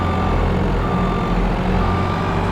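A telehandler in Farming Simulator 22 reverses with steady, loud, repeating backup beeps over a constant droning engine hum, with no talking.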